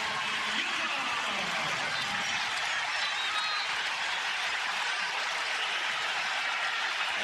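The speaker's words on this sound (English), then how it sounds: "And here comes the crowd again" Crowd noise fills a college basketball arena during a close game against Northern Iowa, a steady dense roar of cheering and applause running loud throughout with no pauses.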